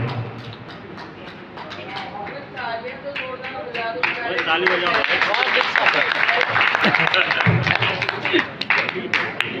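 An audience at a mushaira poetry gathering bursts into applause, the clapping building after a few seconds into a dense, sustained patter while a voice carries on over it.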